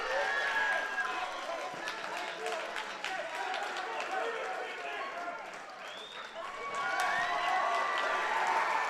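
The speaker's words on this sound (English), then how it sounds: "Big eruption from the Stratford sideline and crowd there out of that match" Crowd roaring and cheering from the Stratford sideline at a high school wrestling match in a gym, a sustained loud wash of voices and clapping that swells again near the end, with an announcer talking over it.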